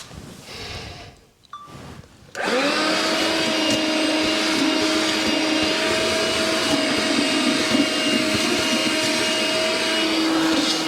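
A Makita XLC02ZB 18V cordless vacuum with a crevice tool and cyclone attachment kicks on after a brief shuffle and runs at a steady, loud whine while sucking up leaves.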